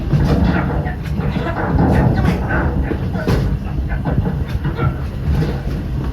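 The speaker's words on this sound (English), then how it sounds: "That's not a snake. It's a train." The Walt Disney World Railroad train rolls along with a continuous low rumble and faint rhythmic clatter, loud and close throughout, with muffled voices and park noise mixed underneath.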